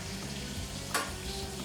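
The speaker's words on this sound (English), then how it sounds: "now we're going to braise the steak" A steak braising in a pan with butter, rosemary and garlic gives a dense, continuous sizzle, close and steady, with one brief sharp crackle partway through.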